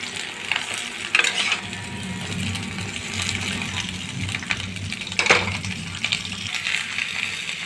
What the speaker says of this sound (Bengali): হালকা করে তেলে নেড়ে নেবো প্রথমে।